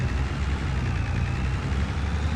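Fiat farm tractor diesel engine running nearby, a steady low rumbling drone that holds constant throughout with no speech over it.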